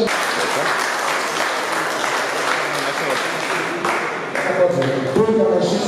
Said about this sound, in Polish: Maciej Świętowa, Grzesiek Kowalski, wielkie brawa, jeszcze raz, dobre gratulacje